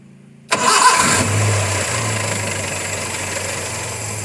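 A car engine cranks and fires after a clogged oil part was fixed, a sudden loud catch followed by a settling, steady idle with a low hum running to the end.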